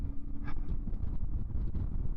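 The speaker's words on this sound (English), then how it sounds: "Ooh, very windy." Steady low wind rumble buffets the microphone throughout, a constant gusty roar with no voices, in a canyon in Morocco's Atlas Mountains.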